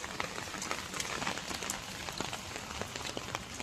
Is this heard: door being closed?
no